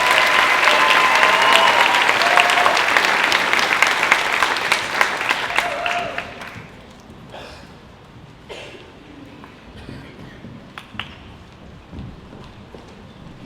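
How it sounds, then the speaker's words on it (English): Loud applause from an audience at a high school senior night fills the first half, then thins to scattered claps and quiet room noise as it fades out. "Give them one more round of applause, please."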